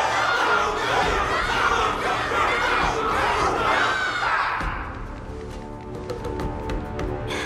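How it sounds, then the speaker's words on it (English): A large crowd in the Honkai: Star Rail game roars and cheers at full volume, a dense wall of shouting voices that thins out after a few seconds into scattered calls and light clapping. "Can't you hear? Everyone's cheering for you, Luca!"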